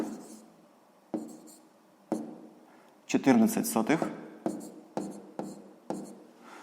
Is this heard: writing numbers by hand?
yes